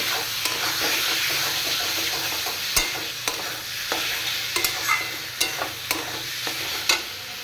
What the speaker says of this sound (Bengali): এবার আমার সিদ্ধ করা লাউটা এর মধ্যে দিয়ে দেবো দিয়ে এটাকে নাড়াচাড়া করতে থাকবো